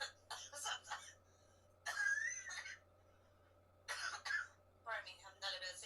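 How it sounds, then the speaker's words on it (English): A person in downtown LA lets out a few short, raspy coughs and throat-clearing bursts, quiet and close, mixed in among conversational voices. "Yeah, I catch a cough."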